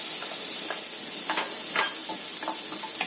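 Garlic and shallots fry with carrots in margarine in a pan, a close bright sizzle with occasional stirring scrapes.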